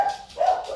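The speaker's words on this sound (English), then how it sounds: "Almost every video, I have to stop when my dogs start barking for something random." Pet dogs barking indoors, two short, clear barks close by in quick succession, with no talking over them.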